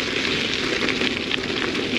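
Rain falling in a forest on a cool day, a steady close hiss with faint scattered patter throughout.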